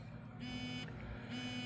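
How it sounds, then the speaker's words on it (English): A TOPTES RT-389 refrigerant leak detector emits a steady buzzing tone with short higher beeps switching on and off, a brief self-test pattern heard close up. "vibrating and beeping, checking for storage."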